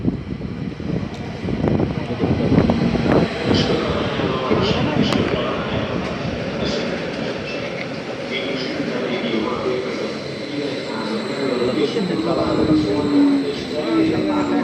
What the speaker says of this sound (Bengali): দেখতে পাচ্ছেন ট্রেনটা চলে আসতেছে